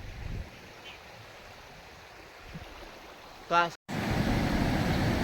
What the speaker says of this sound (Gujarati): એટલું બધું ઓજતમાં જોરદાર પાણી આવી ગયું છે, પોલાદ્રો નદી